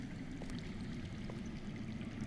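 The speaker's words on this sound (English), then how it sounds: "I hear water. From underground." Water flowing underground beneath a cave area in the Game of Thrones video game, a steady low rushing murmur with faint gurgles, continuous and fairly quiet, heard alone without talk.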